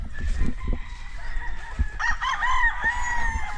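Chickens and a rooster at a Cebu farm with chicks around, crowing rising clearly over steady clucking and barnyard background noise, fairly close.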